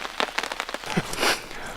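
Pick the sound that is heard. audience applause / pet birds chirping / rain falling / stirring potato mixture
rain falling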